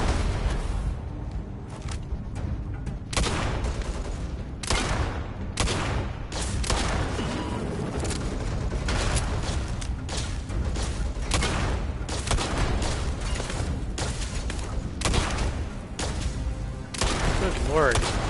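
Repeated gunfire bursts in the space game Starfield, dense and continuous over background combat noise, with a voice talking in between.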